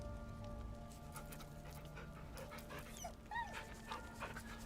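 A dog pants steadily in Baldur's Gate 3, its quick rhythmic breaths close and continuous over a low game ambience, with a couple of faint whimpering yips partway through.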